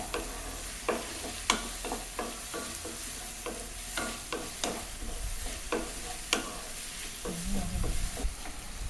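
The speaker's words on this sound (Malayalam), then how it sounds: "അപ്പോൾ നന്നായി അത് വീണ്ടും വഴറ്റിയെടുത്തു" Onions sauté and get stirred in a pan on the way to a chicken curry, a close hissing sizzle broken by repeated spatula scrapes and knocks in an irregular rhythm, without talk.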